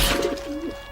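Pigeon or dove cooing in the video game Team Fortress 2, a short, near, soft, low coo heard alone over faint background hum.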